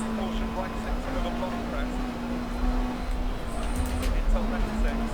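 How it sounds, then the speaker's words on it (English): A rally car engine in DiRT Rally, driven in career mode on a Swedish stage, drones steadily with a continuous hum throughout, under loud road and gravel rumble. "the car sounds nice"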